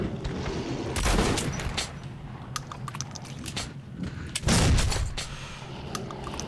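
Gunfire from a quadruple barrel shotgun in the video game Metro Last Light: several loud, close blasts with broad crackling bursts and ringing tails, irregularly spaced over a rumbling game background.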